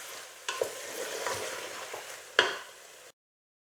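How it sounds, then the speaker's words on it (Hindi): Mutton being bhuna-roasted in oil in a pan, a close, steady sizzle with spatula scrapes and a sharp clink near the end before it cuts to silence. "मैंने इस तकरीबन और आधा मिनट, यानी 30 से 40 सेकंड इसको और भूना है"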